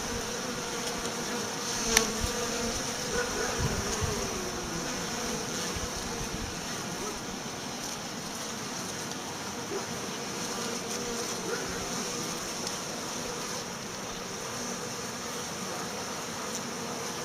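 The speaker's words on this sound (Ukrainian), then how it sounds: "Йдуть бджоли з пилком." Steady buzzing of many honeybees on a February cleansing flight, some carrying pollen, fills the whole stretch, a dense continuous hum with a brief click early on.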